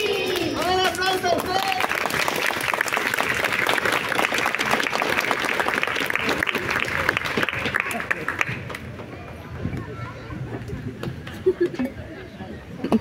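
A crowd claps and cheers for several seconds, with chatter and voices mixed in, before the clapping drops away into quieter murmuring and scattered sounds.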